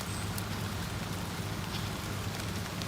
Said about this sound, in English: But now it's starting to rain,